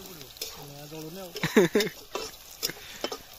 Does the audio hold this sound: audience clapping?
no